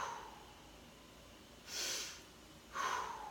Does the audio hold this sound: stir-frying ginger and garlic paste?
no